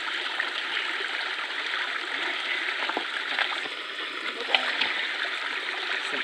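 Water rushes steadily out of the end of a micro hydro pipe as a continuous close hiss and splash, with a few sharper splatters breaking through.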